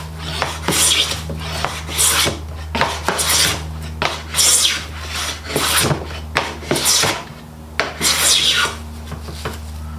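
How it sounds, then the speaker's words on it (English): A Stanley No. 4 hand plane fitted with a 55 degree high-angle frog shaves through knotty wood in a series of close, rasping strokes, each a rough swish of roughly a second, repeated steadily. "Planing right on through it."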